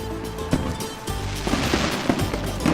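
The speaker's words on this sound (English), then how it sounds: "This is what the biggest fireworks display ever looks like" Fireworks burst at the Atlantis hotel launch in Dubai, a huge display heard as a dense rumble of irregular pops and booms that builds toward the end, distant yet loud.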